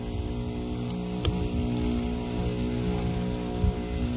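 Continuous rain falling steadily on a soybean field, an even broadband patter with scattered drop taps, close and unbroken throughout, no voices.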